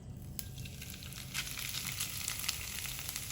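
Freshly grated coconut roasts in hot coconut oil in a pan over low heat, giving a soft, steady sizzle with light crackles and faint stirring, close and fairly quiet, without talk.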